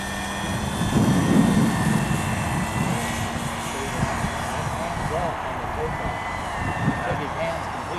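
A radio-controlled Beechnut PCA-2 model aircraft engine on takeoff, a steady buzzing drone that holds throughout while people talk nearby.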